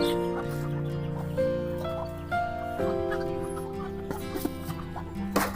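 Chickens cluck softly in a bonsai garden as they gather to be fed, their scattered calls sitting under a steady, tonal hum with light clattering and shuffling.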